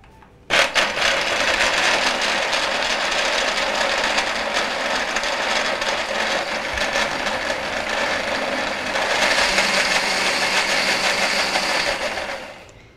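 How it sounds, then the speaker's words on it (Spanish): A blender purees nuts and coconut with almond milk into a healthy ice cream base, a loud, steady whirring roar that kicks in abruptly and runs nonstop for about twelve seconds before cutting off. "Vamos a licuar."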